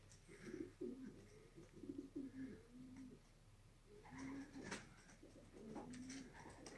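Soft pigeon cooing repeats in low, throaty phrases, close by, with brief pauses between calls and a faint rustle in the background.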